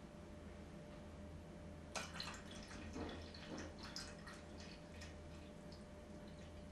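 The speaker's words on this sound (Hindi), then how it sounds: "हम और पानी डालने जा रहे हैं" Water is poured into a container during a school science demonstration, making faint splashing and trickling against a steady background hum.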